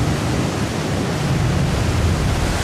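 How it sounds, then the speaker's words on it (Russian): Strong ocean waves on the northwest coast of El Hierro, a loud continuous broadband roar of surf with deep rumbling and no distinct breaks. "Сильная океанская волна."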